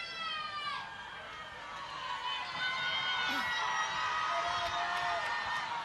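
A rugby crowd at a women's Six Nations match between Ireland and England raises its voices to cheer Ireland on, a steady broad roar of the stadium with whistle-like tones rising above it.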